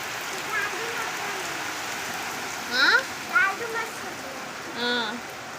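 Steady rain pours down with a constant hiss at school dismissal time, while a few brief voices call out faintly over it.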